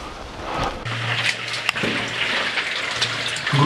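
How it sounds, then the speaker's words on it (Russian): Groundwater seeps and trickles in a tunnel as a steady, close watery rush with gurgling, accompanied by a low hum, continuous throughout without speech. "Грунтовые воды просачиваются в тоннели."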